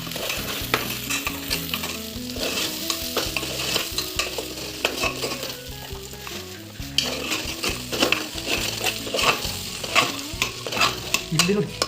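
Duck meat sizzles and fries steadily in a hot pan while a utensil stirs and scrapes against the metal, a dense, continuous, close-up cooking sound with no talking.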